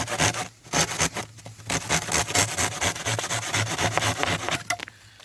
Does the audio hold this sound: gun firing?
no